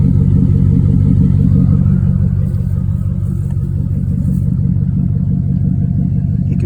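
Deep, loud idle rumble of a 1997 Mustang SVT Cobra through a Flowmaster catback exhaust, recorded close to the car, a steady low burble with a slight dip midway.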